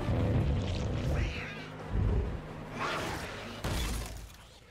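A mutating cat in an episode of the animated series Arcane lets out strained meows and yowls, mixed with glassy shattering and a heavy thud.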